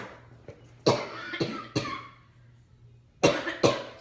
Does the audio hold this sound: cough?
yes